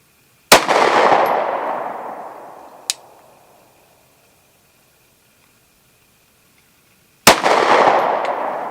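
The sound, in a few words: Glock 26 pistol gunshots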